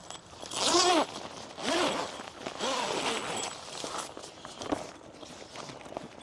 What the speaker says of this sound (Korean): 자, 이렇게 기존 지퍼에 이렇게 연결을 해서